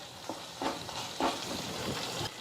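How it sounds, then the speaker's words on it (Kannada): Dry fruits frying in a pan while making moong dal halwa, soft sizzling under a few light scrapes and stirs, close and fairly quiet. "ಒಂದು 2 ನಿಮಿಷ ಇದೇ ರೀತಿ ಫ್ರೈ ಮಾಡ್ಕೋಬೇಕ್ರಿ"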